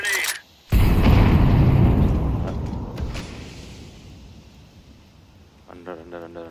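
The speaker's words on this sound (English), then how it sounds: "Throwing a grenade." A grenade goes off in a Counter-Strike match, a sudden loud close boom that rumbles and slowly decays, followed by quieter game sounds and a brief voice near the end.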